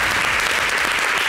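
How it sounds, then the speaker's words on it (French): A crowd applauds in a steady, dense wash of clapping that stays at an even, fairly loud level throughout the short burst, with no pause or trailing off. "Non, on a applaudi."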